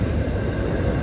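An FEC freight train hauling Crowley containers rolls past at track speed near St. Augustine, Florida, a close, loud, steady low rumble of wagons and wheels with no voices.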